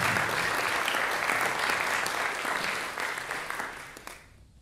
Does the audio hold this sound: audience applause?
yes